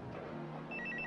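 A telephone rings after a redial to a public call booth, a short electronic ring pattern starting partway in, sounding moderately close over a low background hum.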